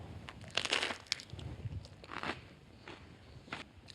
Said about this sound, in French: je pense que vous l'avez entendu, on a le croustillant du pain